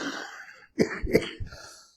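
A man coughs and clears his throat in a few harsh bursts close to the mic, with no talk over them.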